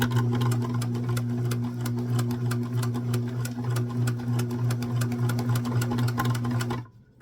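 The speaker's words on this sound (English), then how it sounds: "So you're going to fold it over and sew across the edge." Sewing machine stitching across the folded edge of a baby bonnet, a close, steady motor hum with rapid regular needle ticks running continuously for nearly seven seconds, then stopping abruptly.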